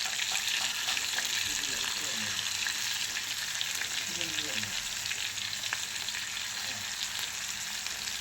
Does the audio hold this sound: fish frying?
yes